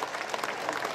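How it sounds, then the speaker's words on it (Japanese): A crowd at the Iwatsuki doll town festival claps in a dense, steady round of applause, brief and fairly loud with no voices standing out. "大きな拍手をお願いいたします。"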